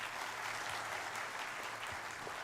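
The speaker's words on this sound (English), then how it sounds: "A huge round of applause for Sikkimese sniper, Baichung Bhutia." An audience at an anniversary celebration event applauds continuously, a soft, distant, even wash of clapping with no talk over it.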